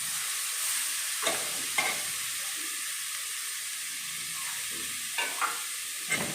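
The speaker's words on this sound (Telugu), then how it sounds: "కాలీఫ్లవర్ వేసిన తర్వాత మనము ఒక 5 నిమిషాలు బాగా వేయించాలండి." Ground cauliflower frying with onions gives a quiet, even sizzle, broken by a few soft scrapes from stirring; no voices.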